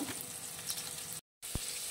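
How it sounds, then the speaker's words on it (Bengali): Shrimp fry in oil with turmeric and salt, a quiet, even crackling sizzle that cuts out briefly before resuming with a soft knock. "সামান্য হলুদ আর সামান্য নুন দিয়ে ভেজে নেব এগুলো"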